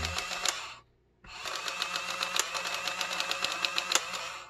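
A Casio HR-T8E Plus printing calculator clunks and chatters through a print run, a dense mechanical rattle that stops briefly after about a second, then resumes steadily until the end, with no voices.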